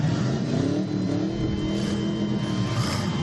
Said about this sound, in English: So the 8 cylinders are leaving right now